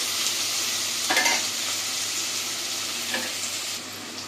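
Ingredients for rice upma sauté in a hot pan, a steady close sizzle with two distinct scraping strokes of a spoon stirring, and no talking.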